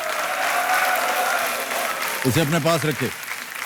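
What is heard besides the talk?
studio audience applauding a KBC contestant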